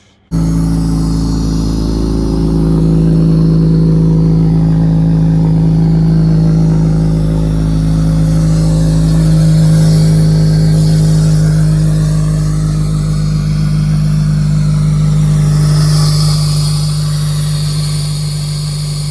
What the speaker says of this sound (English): So let's take her for a quick little test drive.